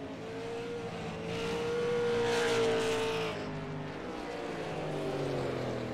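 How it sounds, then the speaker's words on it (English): An SLM race car engine at Thompson Speedway holds a steady drone, with a tone that rises and swells in the middle before easing off, heard at a moderate distance. "I can almost hear that throttle"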